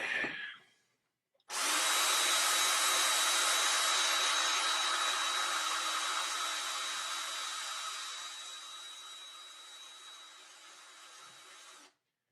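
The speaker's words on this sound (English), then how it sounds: "I think going with this drill bit was a lot smarter decision." A drill bit bores into a pipe with its stem removed, giving a loud, steady, high-pitched grinding whine. It runs continuously for about ten seconds and fades gradually before cutting off, with no talking.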